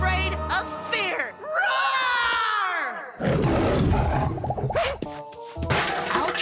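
A cartoon character gives a loud, drawn-out roar, a voice imitating a wild cat, with rising and falling tonal sweeps and further vocal bursts after, in an animated children's show with music.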